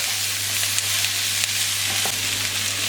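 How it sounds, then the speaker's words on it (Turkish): Carrot, onion, pepper and garlic stir-frying in a hot pan, a loud continuous sizzle with a low steady hum beneath and a few soft stirring knocks, no speech. "1-2 dakika kadar bunları da kavurduktan sonra sebzeleri başka bir kaba alacağım"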